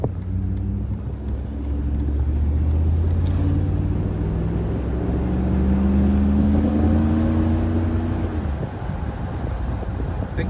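A Mercedes R129 500SL roadster with a muffler delete cruises top down, its V8 engine droning loud and steady with rising and falling harmonics as it accelerates, wind rushing over the open cabin throughout.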